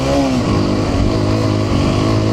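A Hero Xpulse 210 motorcycle revs hard on a dirt trail, its engine note loud and close, holding a steady, rough drone throughout with no voices.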